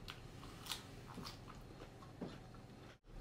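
Crunchy, freshly picked garden vegetables being bitten and chewed close up, a few soft crisp crunches spread over a few seconds at low volume with no talking.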